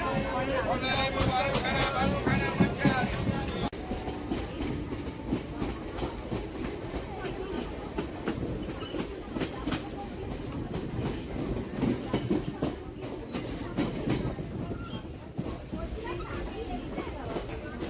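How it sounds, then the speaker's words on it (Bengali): A late-running passenger train rolls into Ranaghat station, its steady rumble and rail clatter continuous and fairly loud, mixed with a crowded platform's hubbub and people talking nearby. "ট্রেন ঢুকছে রানাঘাটে"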